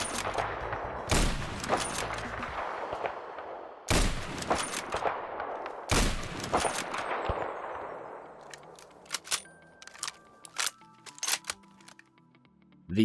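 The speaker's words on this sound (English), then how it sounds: "The SV-98." SV-98 sniper rifle fired in a Fallout 4 modern weapons mod, three sharp loud shots spaced a couple of seconds apart, each followed by a long echoing tail, then bolt-action clicks and metallic handling.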